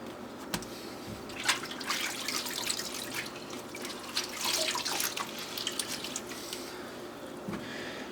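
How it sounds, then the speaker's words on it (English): Water squeezed and dripping out of wet football gloves over a sink, a steady trickling splash with a few louder spatters, close and continuous with no speech. "get as much of the water out as possible"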